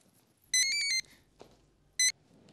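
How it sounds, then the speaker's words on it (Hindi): A mobile phone rings in a TV sitcom scene, two bursts of bright electronic ringtone, a longer half-second ring then a shorter one, close and loud over quiet room sound. "प्रेम तुम्हारा मोबाइल बज रहा है।"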